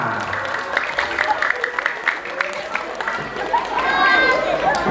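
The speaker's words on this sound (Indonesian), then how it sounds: "Yuk tepuk tangan dong buat santri Al-Wasi'ah" Audience at an Isra Miraj religious gathering clapping for the santri of Al-Wasi'ah, a dense mix of claps and crowd murmur that swells toward the end, with talk mixed in.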